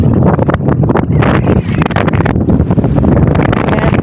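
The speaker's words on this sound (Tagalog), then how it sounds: "at ito, malakas si hangin ng bagat" Strong wind buffets the microphone in loud, continuous roaring gusts with no voices.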